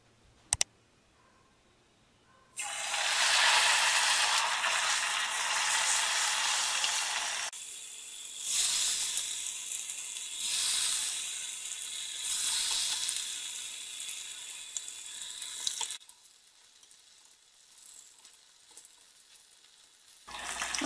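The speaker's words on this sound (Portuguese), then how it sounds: "aí eu coloco ali para fritar." Battered food sizzles and crackles steadily in hot oil in a small pan, with a loud continuous hiss that starts after a quiet moment, swells and dips in several bursts, then settles into a softer frying sound near the end.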